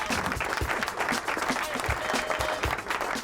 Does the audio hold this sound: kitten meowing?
no